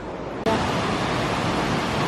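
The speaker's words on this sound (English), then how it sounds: "this is the water under the bridge" A stream pours beneath a bridge in Olympic National Park, its loud, steady rushing roar suddenly filling the air and holding constant without pause.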